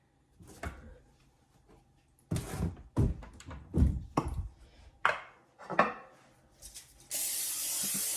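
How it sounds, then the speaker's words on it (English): A few short sprays of cooking spray hiss near a pan between scattered thunks and clanks of cookware, ending with a longer steady spray. "I'm going to spray it today."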